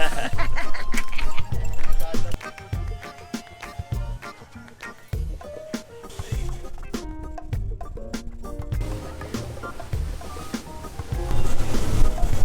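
A boat runs back over the ocean after a dive in the Bahamas, with the hull thumping over the waves, wind and spray rushing past, and people talking and laughing over the noise.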